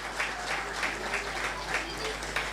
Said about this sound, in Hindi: आपकी तालियां इनकी हौसला अफजाई करती हैं।